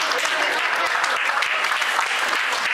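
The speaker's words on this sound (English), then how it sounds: "Can you give me a round of applause" A gala-night audience claps in a brief, continuous burst of dense applause at steady loudness.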